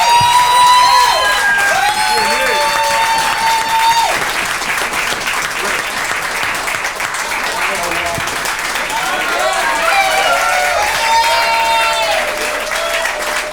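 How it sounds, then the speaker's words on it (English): A comedy show audience applauds loudly and cheers, with whoops and shouted voices rising over dense clapping that continues throughout. "There seems to be a lot of women applauding in here."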